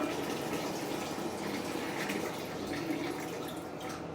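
Waste water pours out of a Dometic portable camping toilet holding tank in a steady, close, continuous gushing splash that tapers slightly at the end.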